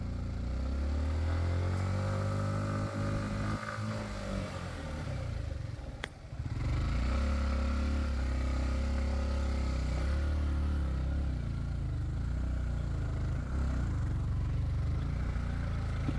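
Motorcycle engine laboring along a rough mountain trail, a steady close drone with shifting revs and a brief dip midway, running alone without talk.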